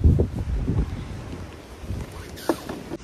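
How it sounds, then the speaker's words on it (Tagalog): Strong wind in the UK buffets the microphone with heavy low rumbling, loudest at the start, then easing into a steady gusty roar. "Sobrang lakas ng hangin"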